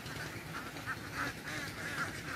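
A large flock of ducks raised in a rice field quacks continuously at a distance, a dense overlapping chatter of calls with no talking.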